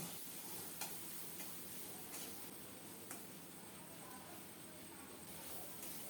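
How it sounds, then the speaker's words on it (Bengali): Long beans, flat beans and grated coconut frying in oil, a soft continuous sizzle heard faintly and at a distance, broken by a few light ticks and taps of stirring. "নারিকেল সহ আরও কিছুক্ষণ ভেজে নেব"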